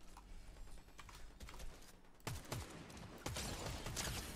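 Rapid shotgun blasts from a video game crack in quick bursts, loud and punchy over a busy background of game noise, with a heavier volley toward the end.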